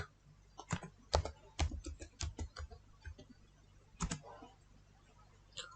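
Typing on a laptop computer keyboard, a quick close run of light clicking keystrokes, then a pause and a few final taps, quiet and without speech.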